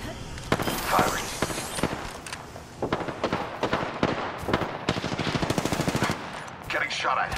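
Weapon fire in Apex Legends: repeated sharp gunshots, first scattered single shots and then a rapid automatic burst of many rounds, loud and close, with a voice speaking briefly alongside.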